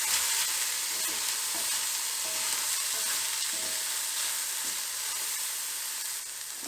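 Tomatoes cook in a pan with a steady, moderate sizzle, with occasional soft squishing and stirring sounds close by.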